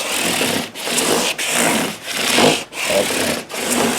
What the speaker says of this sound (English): I have the sandpaper stacked on the block.